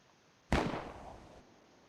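A single sharp gunshot blast in a video game, loud and close, with a short echoing decay that fades over about a second.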